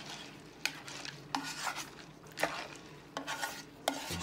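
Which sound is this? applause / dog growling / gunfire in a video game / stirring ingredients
stirring ingredients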